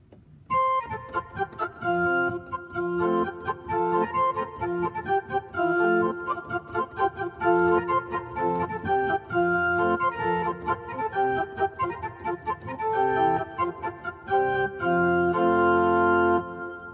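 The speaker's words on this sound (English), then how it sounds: "this is more of a classical organ" A classical organ voice on a Yamaha P-125 digital piano plays sustained chords and a moving melody for the whole stretch, steady and fairly loud, with no voices.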